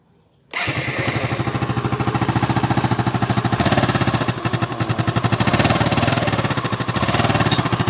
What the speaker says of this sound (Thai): สตาร์ทเครื่องยนต์นะครับ